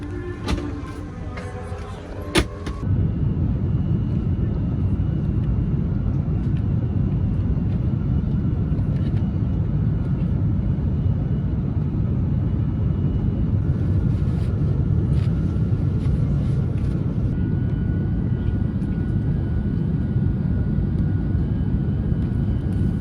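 Passenger airplane touching down, a steady loud broadband engine and airframe roar filling the cabin throughout after a brief quieter moment at the start, with no voices over it.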